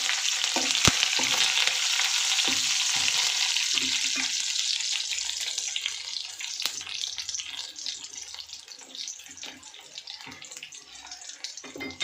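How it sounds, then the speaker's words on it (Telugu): Curry leaves and spices for tempering fry in hot oil in a pan, giving a steady, loud sizzle with crackles and occasional sharp pops. The sizzle eases slightly toward the end, and no one speaks. "తాలింపు వేగిపోయిందండి"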